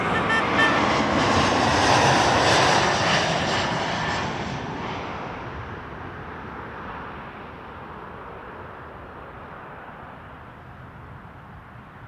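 Airplane taking off on a runway at Toronto Pearson Airport, a loud, close, steady engine roar that slowly fades as the aircraft climbs away.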